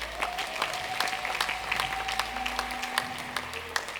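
A congregation applauds in praise of Jesus at a French-language prayer marathon, many hands producing rapid, continuous clapping with sharp individual claps standing out, loud and close, over a low sustained hum in the hall.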